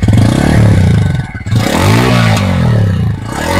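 A Bajaj Pulsar N150 2023 motorcycle starts and settles into its exhaust note, loud and close, with a rising revving tone, a brief dip and then a steady throbbing idle.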